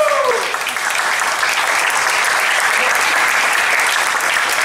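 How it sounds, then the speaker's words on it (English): Steady, loud applause fills a Tea Party meeting hall in Redlands, with a dense crowd clapping continuously throughout. "This woman deserves a round of applause."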